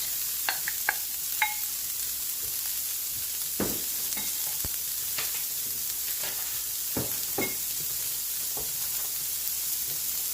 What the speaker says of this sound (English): So I have taken 3 large carrots and diced them up, and I'm going to saute them till they get